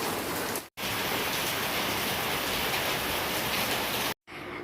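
Steady heavy rain pours down in a dense, even hiss throughout, broken by two very brief cuts to silence, with no voices over it.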